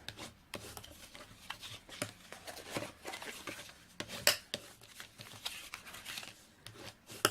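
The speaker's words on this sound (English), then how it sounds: "we're going to fold and burnish" Card stock is folded and burnished along score lines to form a flip box, giving quiet rubbing, scraping and soft creasing strokes with a few sharper taps, close up and with no voices.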